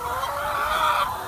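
Many hens on a pastured poultry farm cluck and chatter together in a dense, continuous flock din, fairly loud and steady throughout, with no speech.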